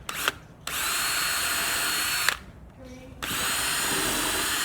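Power drill driving screws into a wooden butt joint: two sustained whirring bursts, each starting with a quick blip, separated by brief pauses, loud and close.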